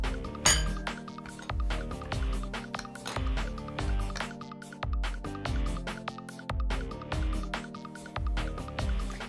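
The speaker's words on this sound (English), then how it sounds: "Now, as a cookie cutter, I'm using a glass this time." A drinking glass clinks repeatedly as it is pressed into rolled-out dough to cut homemade dog treats in a kitchen, giving a steady series of bright, close chimes with soft dull thumps.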